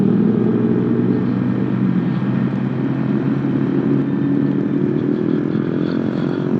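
Honda ADV150 scooter engine droning steadily on a test ride, with a constant loud hum and road and wind noise throughout, no talk.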